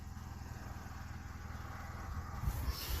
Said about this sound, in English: Except the engine's still running.